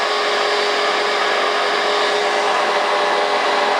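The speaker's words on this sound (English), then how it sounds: "So now the power washer is primed." A power washer runs steadily at close range, pushing water through a hose while tractor tires are filled with ballast, giving a loud, unbroken roaring hiss from start to end.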